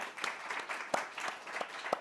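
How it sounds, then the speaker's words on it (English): Brief, scattered clapping from a government trade event audience, a few sharp individual claps standing out from thin, moderate-level applause that starts and settles within a couple of seconds. "I think it deserves a clap"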